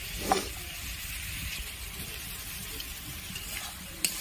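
Chhatu masala sautés in a pan, a soft steady sizzle with occasional scraping clicks of stirring, close and fairly quiet.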